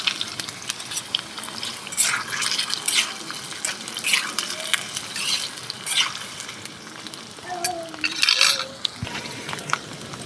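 Potatoes fry in a pan with whole cumin, dried chilli and bay leaf, a steady crackling sizzle broken by scraping stirs and clinks of utensils, with brief tonal squeaks near the end.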